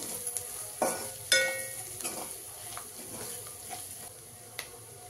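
Coriander powder being stirred into a bitter gourd and tamarind curry in a pan, with a soft steady sizzle and a few sharp spoon scrapes and taps against the vessel.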